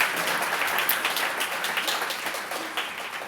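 Scattered audience clapping at an awards ceremony, a soft, fairly thin patter of hands spread across the room and slowly tapering off.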